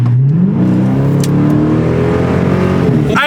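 A Chrysler 300 with a stage 1 burble tune revs hard through an acceleration pull, its engine note climbing steadily in pitch, loud and close, ending in a sharp burst as the throttle lets off.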